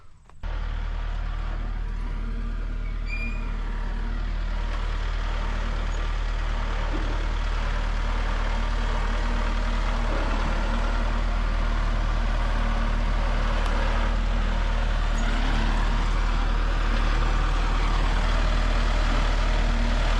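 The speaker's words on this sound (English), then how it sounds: "So we got the skid steer out here with the grapple and the mini excavator over there" Outdoors at an old golf course fairway, a skid steer fitted with a grapple and a mini excavator run together, a loud and steady diesel engine drone that continues without a break.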